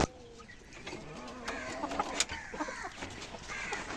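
Chickens at a poultry farm near Dhaka, including red and ash-coloured breeding hens, cluck and call in scattered bursts over a steady background din of the flock.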